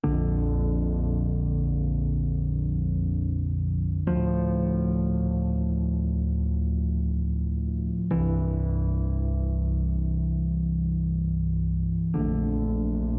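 A sustained electric piano plays a slow chord progression for a Doom Jazz track, each warm chord held for about four seconds before the next lands, with loud, steady, reverberant tone.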